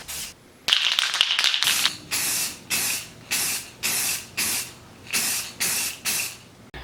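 Short, regular bursts of aerosol spray paint and lacquer being applied to a 1940s ice cream scoop during restoration, each hiss lasting about half a second with brief pauses, after an opening cluster of taps and rattles.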